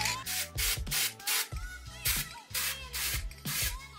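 Spray adhesive hisses onto vinyl for boot-making in a series of short, even bursts, about eight close sprays with brief pauses between them.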